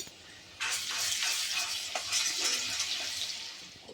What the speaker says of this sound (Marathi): त्या तेलामध्ये कांदा टाकला, लसूण अद्रक पेस्ट टाकली